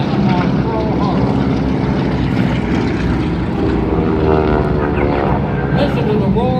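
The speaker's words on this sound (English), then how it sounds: "Listen to the roar of the engines, the sound of the air raid sirens and gunfire" Aircraft engines roar continuously and loudly during a Pearl Harbor attack reenactment, a dense propeller drone filling the whole stretch with a faint voice beneath.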